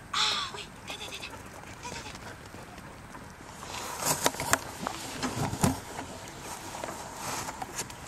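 Sheep bleat several times close by, overlapping calls rising in the middle, with shuffling and rustling around them and no talking.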